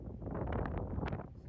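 Cold wind buffets the microphone on the Lithuanian seaside dunes, a rough low rumble of gusts lasting a moment and ending abruptly, with no talk.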